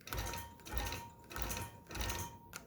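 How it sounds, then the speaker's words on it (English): Long arm quilting machine stitching while basting a quilt, a soft rhythmic whirring in four short bursts with brief pauses between them, fairly quiet and with no talking. "after I get this little guy basted, I just wanted to show you a little bit more of my ruler work"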